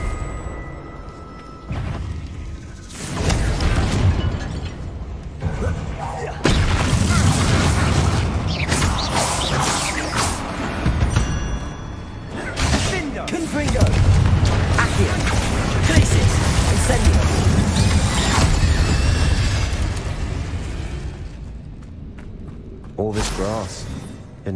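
Confringo spell blasts in Hogwarts Legacy, a run of loud booming explosions and crashing debris in a catacomb, mixed with game effects and a voice speaking over them.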